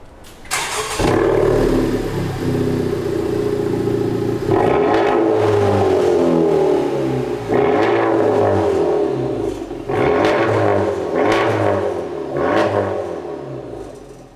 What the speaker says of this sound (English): With the exhaust installed, let's see how it sounds.